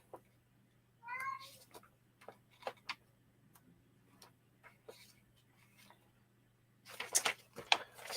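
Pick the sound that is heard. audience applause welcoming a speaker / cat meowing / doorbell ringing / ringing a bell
cat meowing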